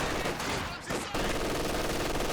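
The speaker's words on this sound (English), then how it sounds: "Okay, MG42 setting up." MG42 machine gun fire in the Company of Heroes 2 strategy game, dense loud rapid bursts blending with other battle gunfire, with a short lull before the shooting resumes at full intensity.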